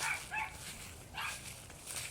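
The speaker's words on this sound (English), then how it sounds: "Those are the neighbor's dogs that still don't." The neighbor's dogs bark in short bursts from a distance, faint and intermittent beneath steady background noise.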